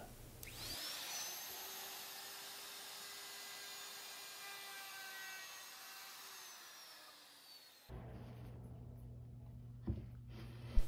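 A wood router cuts a test pass through wood with a steady, loud high-pitched whine that holds for about seven seconds, then winds down and stops, leaving quieter workshop rumble and a few small knocks.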